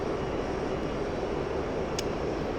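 Mirage F1CE jet engine at quarter throttle in the DCS flight simulator, heard as a steady, unbroken roar that holds the same level throughout with no voices.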